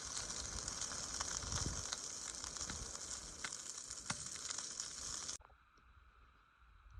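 A trout, trimmed to fit, sizzles steadily in a pan over a camp stove on a wilderness trail, the loud frying hiss continuous for about five seconds before dropping to a quieter hiss.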